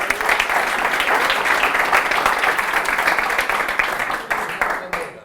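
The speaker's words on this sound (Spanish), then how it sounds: "Un aplauso para el despistado" An audience at a public speaking session breaks into loud, dense applause, a sustained roar of many hands that thins and fades at the end.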